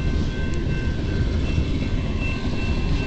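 CN eastbound manifest freight, mostly gas cars, pulled by three engines, rolls past at Port Huron, Michigan, a steady loud rumble of wheels with a thin high squeal, continuous and close throughout.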